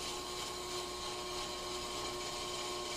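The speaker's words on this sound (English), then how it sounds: "Look at that, scraping all that rust off." Steady, dense scraping and grinding as rust is stripped from parts of a Mercedes-Benz W124 500E in Car Mechanic Simulator 2021, a continuous even buzz with a faint tonal hum, close and alone without talk.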